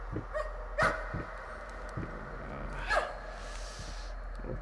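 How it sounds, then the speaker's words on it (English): Dog barking in the horror video game Layers of Fear, two or three sharp barks spaced a couple of seconds apart over a low steady hum, moderately loud and alone without talk. "A dog."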